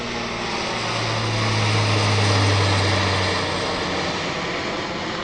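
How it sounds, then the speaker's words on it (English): A C-130 Hercules turboprop flies past near an airfield, its steady propeller drone swelling to a peak and then easing off, loud and continuous. "Here's our C-130 Hercules coming for another"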